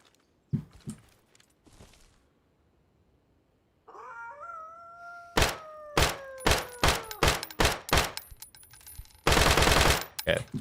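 Gunfire in the video game Deadside: a series of sharp, evenly spaced single shots, then a short, loud sustained burst near the end, following quieter thuds and a rising tonal sweep.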